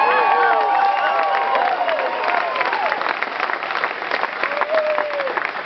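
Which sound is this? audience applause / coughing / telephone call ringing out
audience applause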